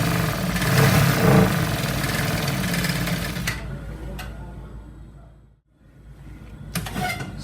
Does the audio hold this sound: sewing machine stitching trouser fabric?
yes